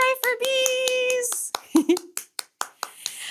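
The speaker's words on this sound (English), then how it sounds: "let's give ourselves a big clap and a big clap for the bees" A few hand claps ring out as separate sharp claps near the end, following a sung tone and a cheer in a children's sing-along.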